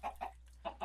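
A chicken in the Chicken Block video game clucks four short, soft times in two quick pairs, alone without talk.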